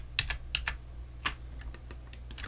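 Computer keyboard keys tapped in an irregular burst of about a dozen sharp clicks while using the Ctrl+Z undo shortcut during Blender 3.0 3D modeling, close and clear with no talking.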